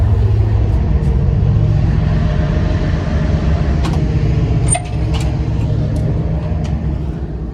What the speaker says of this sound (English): This train is coming. It's going to be so loud.